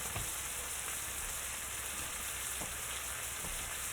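Floured chicken pieces fry in a hot pan, giving off a steady, bright sizzle and crackle with occasional pops, close and continuous throughout, with no voices.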